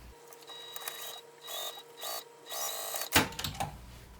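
A sewing machine top-stitches along the top edge of a fabric bag in several short, quiet whirring bursts with brief pauses, followed by a louder clunk near the end.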